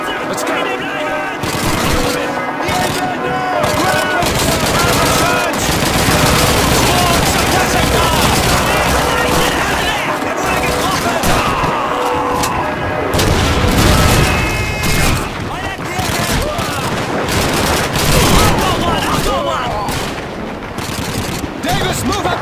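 Gunfire fills a Call of Duty 2 battle around a church, with dense rifle and machine-gun bursts, booming explosions and shouting voices layered loudly over one another the whole time.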